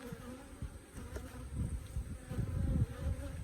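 Honey bees buzz steadily at an opened hive full of brood, a dense, low droning swarm sound that swells slightly in intensity, with no voices present.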